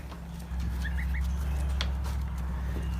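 Young chicks clucking in a brooder, with a few short high chirps near the start over a steady low hum of background noise.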